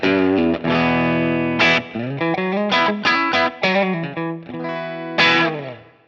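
An electric guitar on a clean amp channel plays a short melodic phrase of ringing single notes, each tone sustaining with a soft reverb tail.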